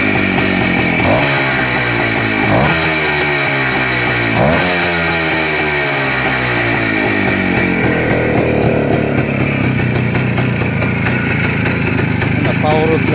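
A cold Voskhod motorcycle engine is revved with the throttle, several sharp rising bursts from a close two-stroke idle early on, then a sustained higher, busier drone, with someone speaking over it.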